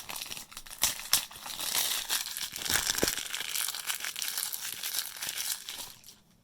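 Plastic wrap and packaging on a Star Wars Republic Commando Limited Run Games deluxe edition being crinkled and torn open, with steady close crackling and rustling that fades out at the end.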